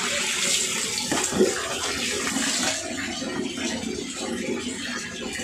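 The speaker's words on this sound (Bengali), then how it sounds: "তো যাক চানটা করে ফেলি" Water runs steadily from a tap for a bath at home, a soft continuous splashing hiss that stays even throughout, close and fairly quiet with no talk.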